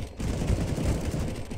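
A wall-bang headshot gunshot in a shooter game, heard as a few rapid, fairly loud firing bursts close by, with a rumbling tail, and no speech.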